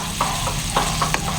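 Two cans of corned beef sauté in a pan, with a steady sizzle and a few scattered spatula scrapes and taps, close and fairly loud. No voices.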